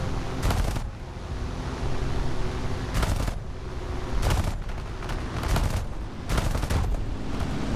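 Aircraft guns in War Thunder fire in repeated short bursts of rapid gunfire during a dogfight, separated by stretches of steady engine drone. The bursts are moderately loud and evenly spaced.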